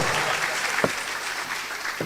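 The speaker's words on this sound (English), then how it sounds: "Oh, let's keep clapping until they leave here." Audience at a university alumni session applauding, a steady wash of clapping from many hands with a couple of sharper claps standing out, fairly close.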